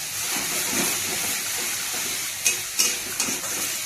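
Onion masala paste with salt, chili and turmeric frying in oil for fish curry, a steady close sizzle with a few sharp scraping stirs near the end.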